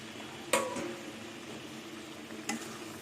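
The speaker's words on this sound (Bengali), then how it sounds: "এবার ভাজা বেগুনগুলো দিয়ে দেবো আর চেরা কাঁচা লঙ্কাগুলো দিয়ে দেবো" Fried eggplant pieces and slit green chillies dropped into mung dal cooking in a pan, two soft splashing thumps followed by a quiet, steady simmering sizzle, close and without talk.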